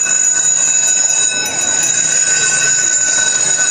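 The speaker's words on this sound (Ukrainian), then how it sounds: "пролунав довгоочікуваний перший дзвоник" An electric school bell rings steadily and loudly at the first-day-of-school ceremony at a school in Khust, Zakarpattia, a sustained shrill tone with a faint voice in the background.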